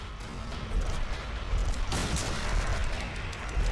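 A gunshot in the Silent Hill 2 video game bursts out at about two seconds, a broad loud blast over a steady rumbling game ambience, with the tail ringing into the background noise.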